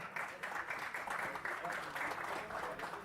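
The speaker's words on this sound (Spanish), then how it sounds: "Fuerte el aplauso al señor Jesús." Audience applause at an auction sale of products rises as a steady, dense wash of clapping that carries on evenly for the whole stretch, loud and close with no break.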